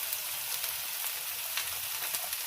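Masala spices frying in a pan for chilli paneer give a steady, fairly quiet hiss and sizzle with faint intermittent crackles, no voices over it.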